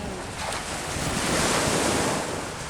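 Ocean surf rolls in at night on an Okayama beach, a continuous broad wash of breaking waves that swells and eases, mixed with wind buffeting the microphone.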